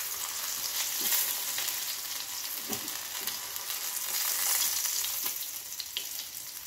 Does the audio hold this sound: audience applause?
no